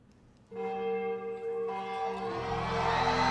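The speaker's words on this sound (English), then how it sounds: "Church bells." Church bells ring out in a played K-pop performance, starting suddenly after a quiet half-second with clear sustained tolling tones that swell louder toward the end; no talk.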